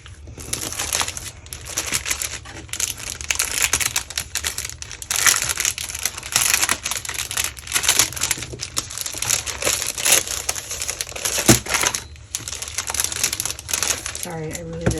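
Crinkly plastic packaging is pulled and crumpled while scrapbooking supplies are unwrapped. Dense, irregular rustling and crackling bursts run close and loud for the whole stretch, with a few sharper snaps.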